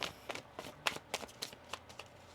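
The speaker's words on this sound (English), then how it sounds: "One more shuffle here" Soft, quick riffling bursts of tarot cards being shuffled, about eight short flicks in a loose rhythm, close and quiet with no voices.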